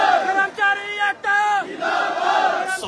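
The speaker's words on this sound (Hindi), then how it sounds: "आपसे अनुरोध करता हूँ कि एक बार उनके लिए तालियां बजा" A crowd at an employees' protest at a secretariat cheers and shouts together in loud, ragged bursts with a brief pause partway through. No clear clapping stands out.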